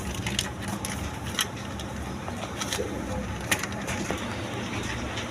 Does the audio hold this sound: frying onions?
no